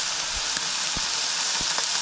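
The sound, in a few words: food frying in a pan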